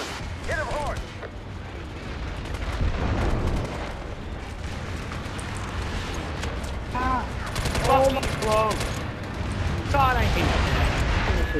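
Rapid gunfire in the online shooter MAG during a large clan battle, with shots and explosions going continuously through the whole stretch, and radio-style voice callouts rising over the combat several times.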